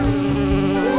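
A close, loud bumblebee buzz, steady and droning, with the pitch wavering slightly as it hovers near.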